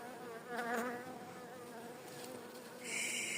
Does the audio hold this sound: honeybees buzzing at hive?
yes